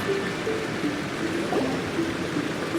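A waterfall in the video game Genshin Impact, a steady rushing stream of water heard alone at an even level, with a faint tonal line running beneath it.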